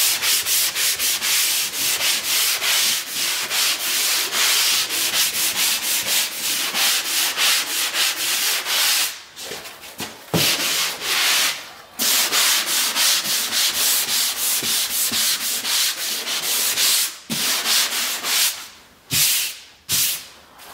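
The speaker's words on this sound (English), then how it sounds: "Make sure you sand the edges really well, and then just kind of work your way into where you sand it into the corner." Drywall mud in a garage corner is sanded by hand in a long run of rapid, close scratchy strokes, with a few brief pauses between passes.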